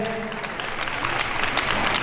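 Steady applause from a room of people at a Latin dance competition in Minsk, continuous clapping at moderate volume with a faint voice briefly audible near the start.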